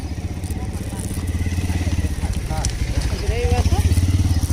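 A motorcycle engine putters steadily nearby with a throbbing, pulsing rumble. Chatter, birds or other faint sounds occur briefly in the background.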